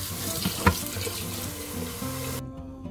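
Tap water runs steadily into a sink as salted mustard greens are rinsed and handled under the stream, splashing briefly, before the flow cuts off near the end.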